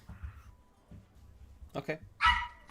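A pet dog barks a few times at close range indoors, the sharp yips and barks coming in a short burst near the end, with faint background noise and no clear talk.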